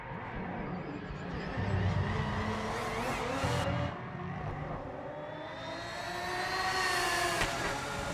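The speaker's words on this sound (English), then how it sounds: "Car sounds gorgeous, though." Race car engine in the Project Motor Racing video game revving steadily, with rising and falling pitch sweeps and a loud sustained drone throughout, no talk.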